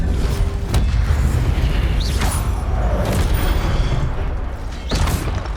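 Spell-casting effects from the Hogwarts Legacy video game, with an Incendio fire spell among them: a continuous dense roar of fire and magic with soft booms and whooshing swells, loud and close, and no talk.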